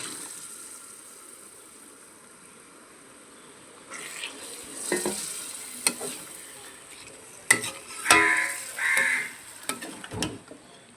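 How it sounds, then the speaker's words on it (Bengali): Marinated chicken drops into spice paste for chicken rezala and sizzles as it is stirred, sharp scraping strokes and bursts of frying over a quiet start that turns busy and fairly loud. "এবারে ম্যারিনেট করা চিকেনটা দিয়ে দেবো।"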